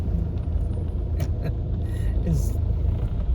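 Road traffic at a red light near Kalka Mor in Delhi, a constant low rumble of idling and creeping vehicles with a few faint clinks and hisses, while a voice talks over it.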